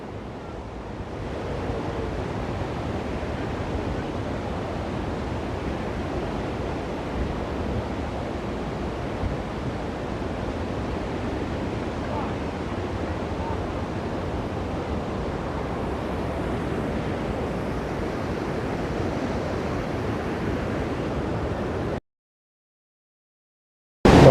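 Water rushes at Tirathgadh waterfall in a loud, continuous, close roar, broadband and unbroken, before a sudden cutoff near the end.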